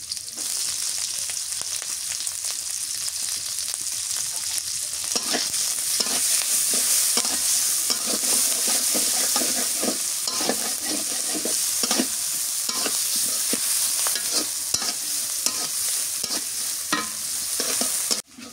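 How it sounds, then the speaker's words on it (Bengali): Onion and green chilli sizzling steadily in hot oil, with a constant bright crackle and occasional stirring scrapes, close and fairly loud throughout. "পেঁয়াজ মরিচ ভাজা হয়ে গেছে"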